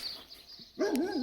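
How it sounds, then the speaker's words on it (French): A nearby dog gives a short wavering yelp and whine after a quiet moment, fairly faint, with no talking. "Il y a des chiens qui me pètent les couilles"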